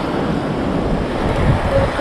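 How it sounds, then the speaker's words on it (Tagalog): Wind gusts buffet the microphone at a bridge over water, a steady low rumbling roar with faint watery wash beneath and no voices. "Wala, hindi talaga nagbago ang hangin."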